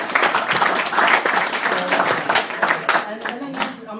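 Audience applause for an event organizer during a speech, steady dense clapping from a crowd throughout with a faint murmur.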